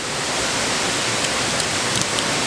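A waterfall at the Fiery Gizzard roars in a continuous, dense hiss of falling water, loud and unchanging throughout, with no voices.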